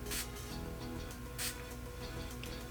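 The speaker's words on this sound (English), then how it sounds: "I'm just going to spray both sides." A Revolution hyaluronic makeup fixing spray gives two short, faint hissing bursts, one near the start and another about a second later, in a quiet room.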